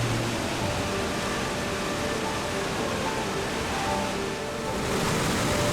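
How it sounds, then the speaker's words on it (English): A river waterfall veils about five feet over smooth basalt bedrock into a trough, producing a steady, full rushing roar of falling water that stays constant throughout with no voices. "The visible channel of the river spreads across the smooth basalt bedrock and veils about 5 vertical feet into a trough in a very scenic display."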